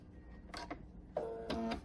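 A sewing machine runs in two short mechanical bursts while stitching a quarter-inch seam on fabric pieces for a sunflower window hanging, with a steady whirring tone in the second burst and no talk.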